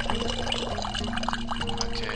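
Water pouring from a create water spell in the Ravenloft: Stone Prophet video game, a steady liquid splash over a constant low game hum, lasting a couple of seconds with no talking.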